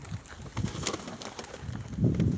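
Soft pigeon-like cooing and low bird calls close by from Manisa Azman and Hünkari pigeons, with faint rustling and shuffling throughout.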